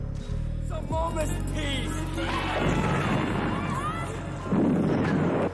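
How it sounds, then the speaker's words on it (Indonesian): Mortar rounds explode in a jungle barrage during a Vietcong guerrilla attack, heavy deep booms and rumbling blasts building in intensity, layered under other battle sounds. "hujan mortar menderas membabi buta"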